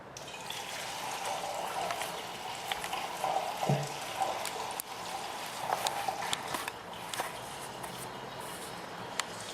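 Liquid pours and trickles steadily into a fermenting barrel, pushing air out, a continuous watery gurgle with occasional splashes, close by and fairly quiet.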